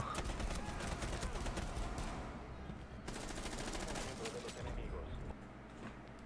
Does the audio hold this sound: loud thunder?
no